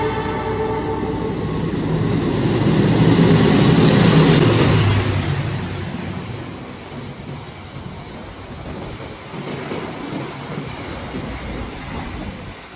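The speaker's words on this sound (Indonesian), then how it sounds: "sebentar lagi akan ada kereta api Turangga yang melintas langsung di jalur 2." The Turangga passenger train rushes through an Indonesian station on track 2 close by with a loud roaring whoosh that swells, then eases into a steady rumble and rattle of wheels on the tracks.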